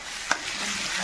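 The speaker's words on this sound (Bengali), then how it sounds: "এবার মশলাটা একটু ভালো করে কষিয়ে নিচ্ছি।" Spice masala stir-fried in a pan gives a short burst of steady sizzling with a single scrape or clink of a spatula.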